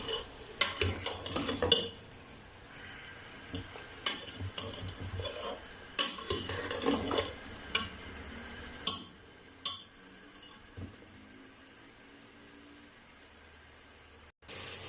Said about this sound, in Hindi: अच्छी तरह इसको फ्राई करेंगे लहसुन के पेस्ट के साथ गोश्त को